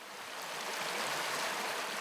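A river flowing through the Sierra de Aracena near Galaroza, a soft continuous rushing of water that stays steady and fairly quiet, with no voices.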